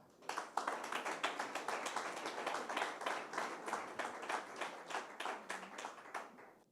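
Applause from an audience at an award presentation, a dense run of many hands clapping that holds steady at moderate volume for several seconds before tapering slightly.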